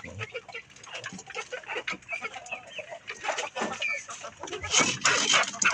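Young pullet hens clucking on a farm, a busy overlapping chorus of soft clucks and chatter at moderate distance, growing a little louder toward the end.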